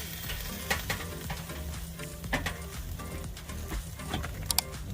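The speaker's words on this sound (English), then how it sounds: "Just gonna flip them over." Pieces of Jamaican jerk pork sizzle steadily in a hot pan as they are flipped, a close, even frying hiss broken by a few soft taps and clatters from turning the meat.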